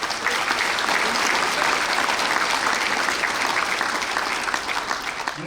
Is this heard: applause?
yes